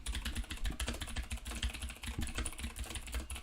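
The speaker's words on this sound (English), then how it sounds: "I just love the typing keyboard sound" Rapid typing on a computer keyboard, a steady run of close, crisp key clicks with an even rhythm and no talk.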